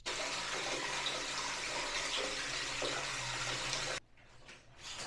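Shower water running in a bathroom, a loud, steady hissing spray that pours continuously for about four seconds, then cuts off abruptly, leaving faint drips and quiet room noise.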